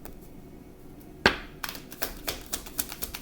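Tarot cards shuffled by hand: a sharp snap followed by a run of quick, soft riffling taps and flicks, close and fairly quiet, no talking.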